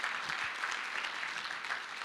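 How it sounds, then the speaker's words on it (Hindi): Dense applause from a large audience at a 2021 celebration event, steady and continuous clapping filling the hall with no voices on top. "तो जोरदार तालियां आपके लिए होनी चाहिए"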